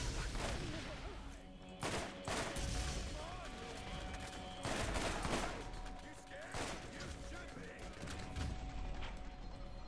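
Pistol shots in the game Borderlands GOTY Enhanced, a few spaced sharp reports over a steady background game soundtrack, moderately loud, with a voice talking at times.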